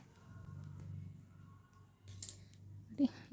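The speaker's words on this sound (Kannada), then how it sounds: "ಕಟ್ ಮಾಡ್ತಾಯಿದ್ದೀನಿ ಈ ಥರ ಎಲ್ಲ ಎಕ್ಸ್ಟ್ರಾ ಇದ್ದಿದ್ರೆ ಈ ಥರ ಕಟ್ ಮಾಡ್ಕೊಳ್ಳಿ" Scissors snip through extra saree fabric in a few short, crisp cuts near the end, after a stretch of soft low handling noise, close and fairly quiet.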